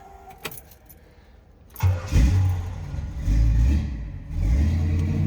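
A brief click and jangle, then a 1968 Pontiac Firebird 400 engine cranks and catches, settling into a loud, close rumbling idle.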